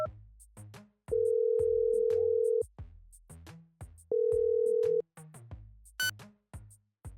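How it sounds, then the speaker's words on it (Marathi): A telephone call rings through as two long, steady ringback tones separated by a pause, set against background music with brisk rhythmic accents. "त्याने पुन्हा त्या व्यक्तीला फोन लावला."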